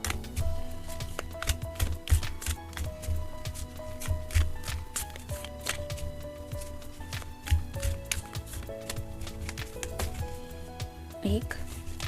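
Tarot and oracle cards being shuffled, giving a steady run of quick papery riffles and taps throughout, with a voice talking over them the whole time.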